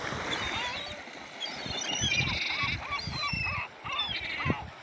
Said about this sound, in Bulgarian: Гледай сега какъв бой става тук за хляб. Тия глари са опасни.